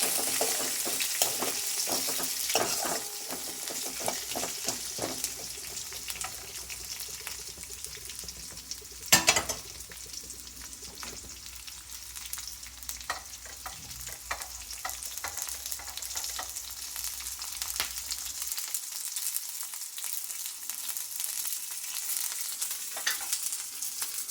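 Cumin seeds and dried red chillies frying in hot oil, a steady close hiss and crackle with scattered pops and one louder clatter partway through, the sizzle dropping away toward the end.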